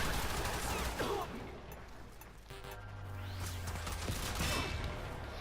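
Zarr weapon firing in the video game Warframe, a run of loud, dense shots and blasts filling the scene, with a low hum underneath and some in-game voice or chatter mixed in.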